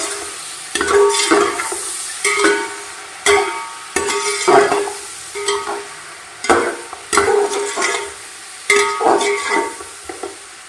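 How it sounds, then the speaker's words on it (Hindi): Chicken frying in a pan with ginger and garlic paste for chicken pulao, stirred in steady rhythmic strokes, each scrape rising over a soft sizzle, close up with no voices. "चिकन हमारा भून रहा है"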